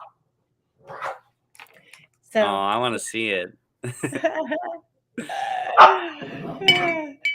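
Dog barking a few times nearby, short sharp barks interleaved with a person talking indoors.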